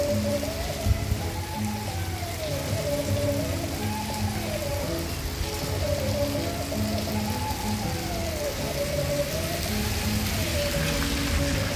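Heavy rain falls steadily in Puquio, a dense continuous wash of drops with water bubbling on the ground, constant and close with no pauses and no talk over it.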